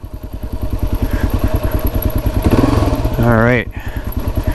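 Off-road dirt bike in the Muskoka woods, a loud, near, rapidly pulsing engine that rises in pitch as it revs, with a brief spoken remark over it.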